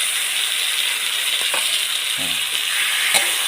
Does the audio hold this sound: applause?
no